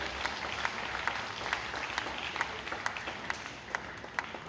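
Steady applause from an audience at an orphanage event welcoming the Governor of Punjab and his wife, dense continuous clapping with scattered sharper claps, filling the whole stretch.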